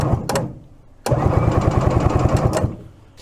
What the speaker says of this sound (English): We'll try this again, see if it's going to turn over.